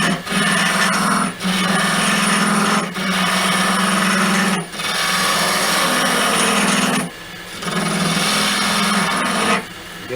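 A wood lathe turning an off-centre goblet, with a loud steady whir and scraping cut that stops briefly several times and resumes, close and unaccompanied by talk.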